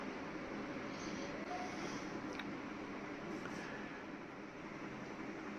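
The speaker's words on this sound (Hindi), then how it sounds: "ये रेलवे स्टेशन आनंद विहार का।" Faint, steady rumble of trains at Anand Vihar railway station in Delhi, a continuous distant rolling noise with a couple of brief high squeals, no talk.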